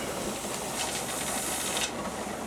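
A pressure canner holding jars of succotash gives off a steady, faint hiss of escaping steam as its weight goes on, brightening briefly partway through.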